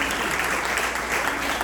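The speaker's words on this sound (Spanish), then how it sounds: "le demos un fuerte aplauso a estos hermanos" Church congregation applauding panel members at a Bible Month commemoration panel, a short, continuous burst of dense clapping from the crowd at steady loudness.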